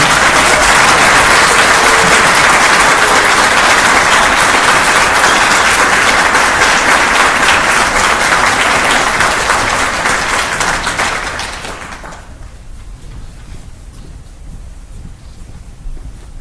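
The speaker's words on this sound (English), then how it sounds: "Please join me in a well-deserved round of applause for our graduates." Sustained audience applause for military graduates at a field artillery battalion graduation ceremony, loud, dense and continuous for about eleven seconds before fading into quiet room noise.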